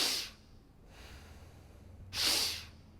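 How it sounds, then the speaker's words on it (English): Two quick, forceful sniffing inhales through the nose, heard close as part of a wake-up breathing exercise and separated by a quieter breathy pause. "we're gonna like sniff in deep into our belly"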